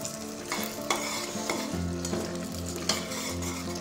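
Beetroot and moong dal kootu with its tempering is stirred in a pan, giving a steady sizzle with rhythmic scraping and clanks of a spoon against the vessel and a low hum underneath.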